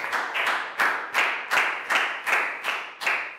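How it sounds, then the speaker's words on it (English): A classroom of children claps in a slow, rhythmic unison beat, eight or nine evenly spaced claps close by, cheering on a student during an English lesson. "Big round of applause for Pak Boon, guys"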